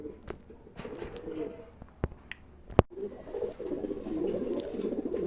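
A pair of pigeons coo repeatedly at close range, low soft throaty calls running steadily through the clip with a few sharp knocks, while faint voices talk in the background.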